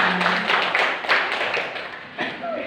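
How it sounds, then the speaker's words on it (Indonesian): Applause from a school audience in Indonesia, a short patter of many hands clapping together, fairly close and steady, with voices mixed in. "beri tepuk tangan untuk semuanya"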